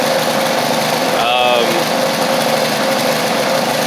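The engine of a Husqvarna Z4822 zero-turn mower with a carburetor problem runs at a steady, loud drone close by, with a faint higher whine briefly rising over it.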